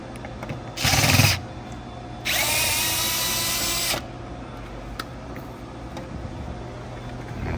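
A power driver backs a Phillips screw out of a 2010-2016 Ford Taurus door panel, whirring loudly in a short burst and then a longer steady run, close by.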